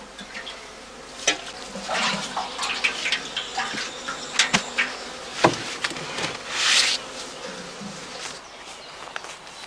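Honey bees buzz around heather skeps in an outdoor apiary during cast swarming, a close humming drone broken by scattered knocks, rustles and brief thumps, with no voices.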